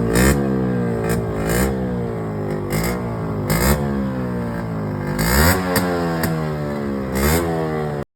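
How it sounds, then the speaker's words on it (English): A customized Yamaha RX100 motorcycle, a roughly 30-year-old bike rebuilt as a scrambler, revs repeatedly up and down with loud, rising and falling engine blips and crackling, heard close and alone. "Are you guys not excited to listen the sound of this vehicle?"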